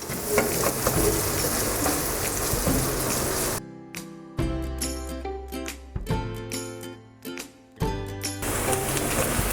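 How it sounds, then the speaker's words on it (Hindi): Finely chopped onion frying in oil toward golden brown for kebabs, a loud dense sizzle that breaks off into bursts of scraping and stirring with quieter gaps. "सबसे पहले एक अदद ये प्याज डालेंगे, इसको हमने ब्राउन करना है।"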